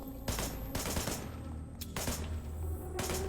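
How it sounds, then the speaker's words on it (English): Rapid bursts of gunfire from the video game Wanted: Dead, loud and close, with sustained automatic fusillades broken by short pauses and no talking. "I tried shooting the fire suppressant system above"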